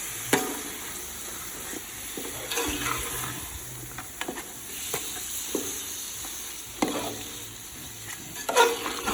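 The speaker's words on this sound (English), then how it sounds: "Give that a good stir." Beef curry being stirred in a pot: meat sizzles steadily while a spoon scrapes and knocks against the pot in scattered, close strokes.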